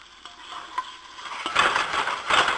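Onions for a homemade marinara stirred in a hot pan, giving a soft sizzle with scraping stir strokes that build louder toward the end, close by with no talking.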